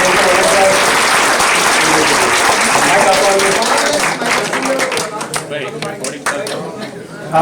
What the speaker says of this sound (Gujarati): So જોરદાર તાળીઓ થઈ જાય.